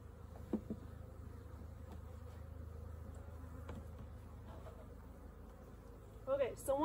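A steady low buzzing of many honey bees on hive frames from a weak hive hums throughout, with a few brief knocks and a faint voice near the end.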